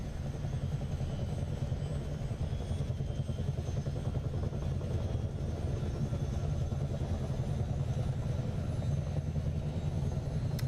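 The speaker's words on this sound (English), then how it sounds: "we just flew the Honda Jet from Lake Tahoe to Vegas." A Honda Jet in Microsoft Flight Simulator 2020, flying from Lake Tahoe to Las Vegas, gives a continuous low engine roar that stays steady and moderately quiet throughout.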